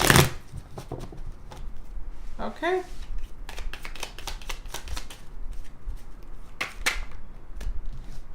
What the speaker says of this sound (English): One more shuffle and then let's start.